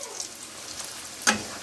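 Luchi, puffed fried bread, frying in oil in a kadai, with a steady soft sizzle and one short sharp crackle or spatter near the end.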